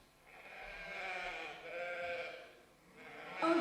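Sheep bleating in a puppet show, a drawn-out wavering bleat followed by a second one and a sharper cry at the end, fairly close and clear with no talking.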